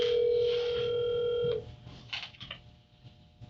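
A telephone on speakerphone gives a long steady tone, then a short run of quick dialing beeps follows, close and clear with no talking.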